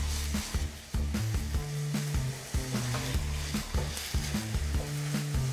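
Onions sweating in a pan for fish-filled cannelloni give a constant broad sizzle, heard beneath rhythmic background music with a pulsing bass line.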